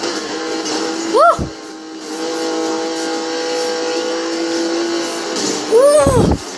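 Racing car in Need For Speed Most Wanted revving and accelerating, a steady engine drone with two sharp rising whines, loud and close, while a player shouts excitedly over the top.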